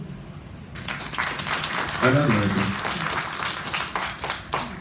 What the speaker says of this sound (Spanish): Entonces lo recibimos, por favor, con un aplauso.